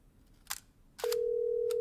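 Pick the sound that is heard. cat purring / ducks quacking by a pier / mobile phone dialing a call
mobile phone dialing a call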